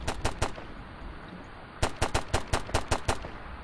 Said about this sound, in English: Oh my god, that guy's shooting.